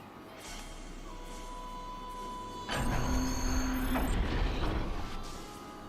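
Heavy mechanical doors shutting in the Star Trek Online video game: a creaking, grinding mechanism with a sudden loud clunk partway through, then a sustained metallic rumble that fades, no speech.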